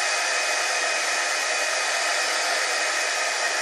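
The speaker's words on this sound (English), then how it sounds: "I'm using my heat gun." A steady, loud rush of blowing air from a heat gun runs without a break, close to the microphone, with no voices.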